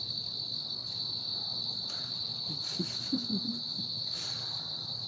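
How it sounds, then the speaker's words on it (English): Crickets chirp in a steady, continuous high trill, with a few faint low rustles underneath. "So crickets sound like they're in pain"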